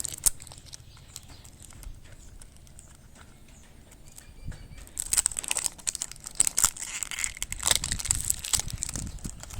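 An amulet package sealed in tough plastic is unwrapped by hand, giving close, irregular crinkling and tearing crackles that grow louder and denser halfway through, with no talking.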